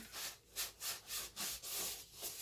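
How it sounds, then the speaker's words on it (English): A sanding sponge lightly sands Jenga block wood in a steady back-and-forth rhythm, with about seven close, raspy rubbing strokes and no one speaking. "And just do a quick light sand just to even everything out."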